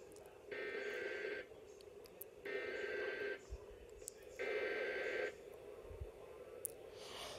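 A NOAA weather radio plays a required weekly test broadcast: three identical bursts of digital data tones, each lasting about a second with short gaps between them. The tones are loud and clear over a steady hum and a few faint background bumps.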